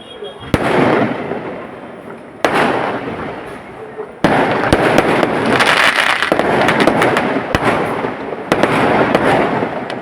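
Firecrackers burst like flowers in the evening sky with sharp, loud cracks every couple of seconds over a dense, continuous crackling roar from the distant display.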